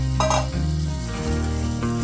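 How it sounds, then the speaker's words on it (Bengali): Potatoes fried earlier go into a spiced masala in a pan for kosha alur dom, giving a steady loud sizzle with stirring under a background of continuous tonal hum. "এবার আমি এর মধ্যে ভেজে রাখা আলুটাকে দিয়ে দিচ্ছি।"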